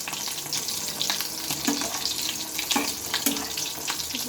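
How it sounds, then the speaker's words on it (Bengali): Stuffed potato-and-egg snacks frying in hot oil, a constant close bubbling sizzle with occasional clinks and stirring noises, no one talking. "এগুলোও কিন্তু দেখো বেশ লাল লাল করে আমি ভেজে নিচ্ছি"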